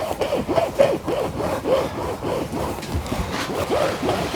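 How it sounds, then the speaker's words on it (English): Rhythmic rasping of a wire saw drawing back and forth through a sheep's horn, steady strokes at close range with no talking. "Now we're going to get to sawing this horn."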